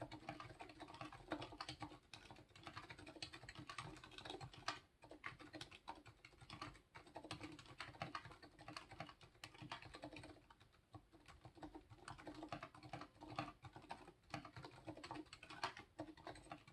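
Silenced Alias switches on a Weaven carbon fiber and aluminum keyboard, typed continuously in a dense, steady stream of soft, muted clacks heard close up with no talking.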